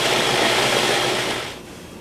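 A Cuisinart food processor whirs loudly and steadily while olive oil is drizzled into a Moroccan-style mixture with lemon juice, the motor's roar easing off shortly before the end.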